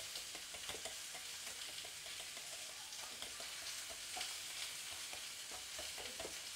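Boiled potatoes with salt being mashed in a pot: quiet, repeated soft pressing and scraping strokes in an uneven rhythm over a faint steady hiss, with no voices.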